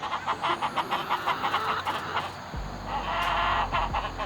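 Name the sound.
chickens clucking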